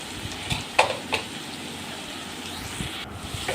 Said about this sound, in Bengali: আর একটু নেড়ে চেড়ে নিলাম মশলাটা ভালো করে